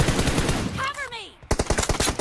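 Automatic rifle fire in the mobile shooter BGMI during a 1v1 team deathmatch, with loud rapid bursts at the start and again near the end and a brief game sound effect between them.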